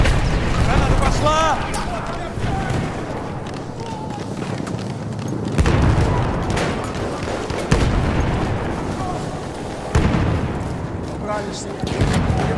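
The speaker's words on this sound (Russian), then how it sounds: "Граната пошла." A grenade explodes in the World War I shooter Battlefield 1, a sharp boom among scattered gunfire and battle noise, with voices speaking over the action.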